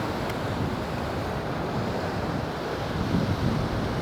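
Big ocean waves crash on the coastline in a steady, dense roar of surf, loud and near with wind noise and no talking.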